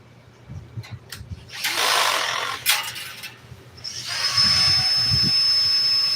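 A power drill whirs in short bursts while twisting material during a 1957 car seat repair, its motor rising and falling between pauses, close and fairly loud.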